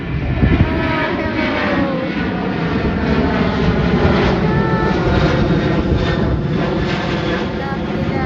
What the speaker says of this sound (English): Oh, and there's a plane. Southwest.